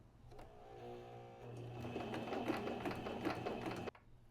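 Sewing machine stitching a short quilt seam, a whirring motor that speeds into a fast steady mechanical chatter for a few seconds, then stops abruptly; close and fairly quiet.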